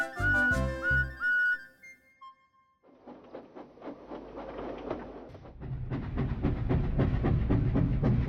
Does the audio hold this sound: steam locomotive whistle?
yes